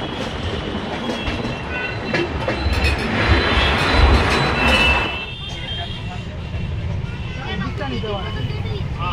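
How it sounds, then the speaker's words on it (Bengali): The Uttarbanga Express departing Dakshineswar railway station, heard from on board as a loud rolling rumble with rail clatter and a rising surge, fading to a steadier hum while a person talks over it. "3 মিনিট লেটে নির্ধারিত সময়ের থেকে আমরা ডিপার্ট করছি হচ্ছে দক্ষিণেশ্বর রেলওয়ে স্টেশন থেকে।"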